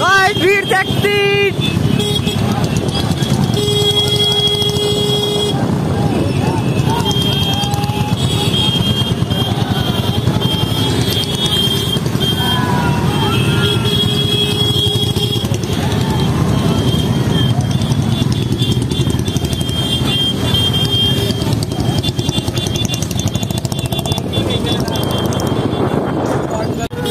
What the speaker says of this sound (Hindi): जहाँ से जा रही है बस गाड़ियों की आवाज आ रही है